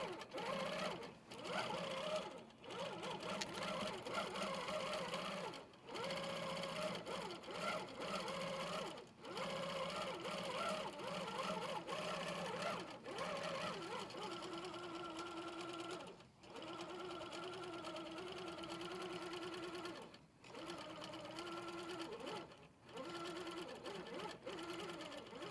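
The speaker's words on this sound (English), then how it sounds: "Do a tie off for that and start quilting. And you'll be able to see how it stitches along the closed crop." An HQ longarm quilting machine guided by a Pro-Stitcher stitches an edge-to-edge design, a loud continuous mechanical whirring hum with a rapid needle rhythm, broken by brief pauses every few seconds.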